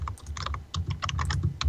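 Rapid keystrokes on a computer keyboard, a quick uneven flurry of clicks with brief gaps, picked up close by an open microphone during an online voice call, with no talking.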